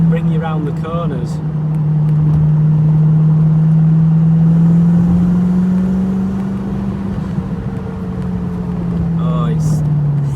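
A TVR Chimaera sports car on the road: a loud, steady engine drone from inside the car that swells and eases a little as it drives, with brief speech near the start and end.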